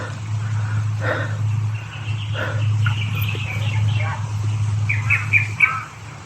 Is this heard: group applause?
no